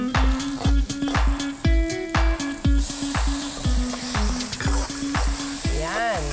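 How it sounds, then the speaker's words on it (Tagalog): Garlic, onion and tomato sautéing in a pan, a steady loud sizzle with fast rhythmic spatula scrapes across the pan, close up, with no talking. "Igigisa muna ang bawang, sibuyas at kamatis."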